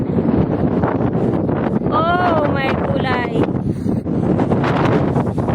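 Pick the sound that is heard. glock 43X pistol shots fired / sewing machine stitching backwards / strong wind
strong wind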